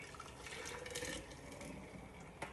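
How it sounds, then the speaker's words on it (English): Homemade immunity boost juice poured into a jar, a steady broadband liquid pour running close and continuous for a couple of seconds, with a brief splash near the end. "I'm going to pour this into a jar"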